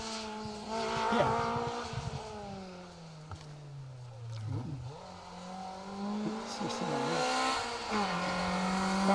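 A Rover Metro rally car drives an asphalt stage at the Argyll Rally, its engine note climbing and dropping through gear changes, loud and steady, with crowd noise faint underneath.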